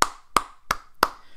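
A few separate, sharp hand claps, five in all at a steady, slightly slow rhythm, fairly close and clear with no voices over them, in a spoken review of an IPL 2022 cricket match between Chennai Super Kings and Lucknow Supergiants.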